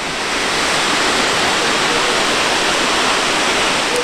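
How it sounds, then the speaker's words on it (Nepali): A waterfall at Silver Falls in Oregon roars as a loud, dense, unbroken rush of falling water, close by and steady throughout with no other sounds standing out. "झर्नाको चिसो पानी"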